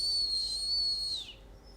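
A person whistles a single sustained high note that glides slightly and falls away at the end, imitating a pet's call, close and clear with no talk.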